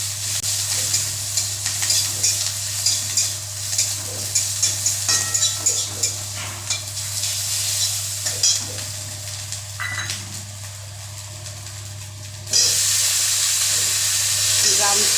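Crushed ginger frying in oil in a home kitchen, a steady loud sizzle with bursts of scraping stir strokes, rising to a fuller hiss near the end over a low constant hum.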